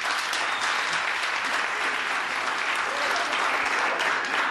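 A stand-up comedy crowd in Iceland breaks into full, sustained clapping, a dense and continuous roar of many hands that stays loud and even from start to finish with no talking.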